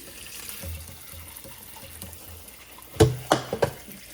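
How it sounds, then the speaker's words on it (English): Tap water running to wash baby carrots, starting as a faint steady trickle and then turning into a few louder splashing gushes near the end, close by. "Wait, I need to wash the carrots too."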